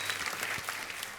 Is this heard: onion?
no